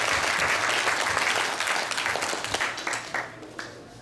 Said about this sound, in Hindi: वो भी दोनों हाथ की ताली बजा कर करके सब ताली बजाते हैं